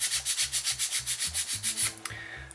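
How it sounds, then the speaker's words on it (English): A nail file rubs epoxy sculpt flush on a Siamese Rubik's Cube cone puzzle, giving quick, evenly spaced back-and-forth scraping strokes, close and fairly quiet, with no voices. "I'm just sanding down these areas of epoxy sculpt so that they're flush with the pieces"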